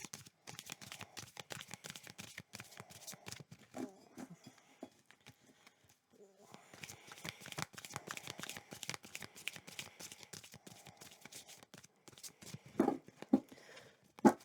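Long, thin tarot cards are shuffled close by in quick, irregular riffles and soft slaps, with a brief pause midway before the crisp flicking resumes.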